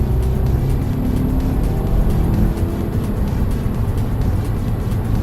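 A small Audi A3 drives along a road, giving a steady, loud rumble of engine and tire roar with broadband road noise and no clear speech.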